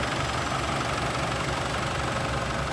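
A Mini Countryman's 2.0-litre four-cylinder turbo engine at a steady, low idle with an even mechanical hum and faint ticking texture, constant and unchanging, no voices.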